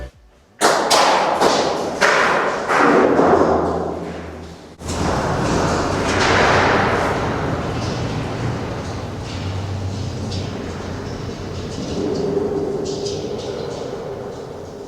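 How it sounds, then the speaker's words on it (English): A rock dropped down a deep mine shaft along an old railroad, heard as sharp thuds and knocks followed by a long rumbling, rattling tumble that slowly fades with distance. "We'll hear how long the rock falls."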